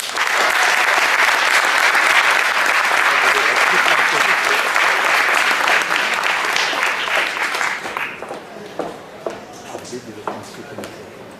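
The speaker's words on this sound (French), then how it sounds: "Je vous demande de faire un tonnerre d'applaudissements pour la directrice de la section féminine, Yannicka Diafar." Loud, dense applause from a crowd at a Paris tournament ceremony fills most of the stretch, then thins into scattered individual claps near the end.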